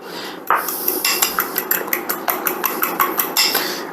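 Porcupine meatball mixture being mixed in a bowl, a steady run of sharp clacks and scrapes from a utensil knocking against the bowl, close and fairly quiet, with no talk.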